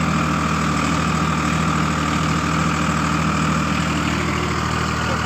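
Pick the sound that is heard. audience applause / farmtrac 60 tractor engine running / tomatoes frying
farmtrac 60 tractor engine running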